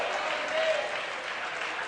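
A church congregation applauds together in a steady wash of clapping that fills the whole moment, loud and continuous with no pauses.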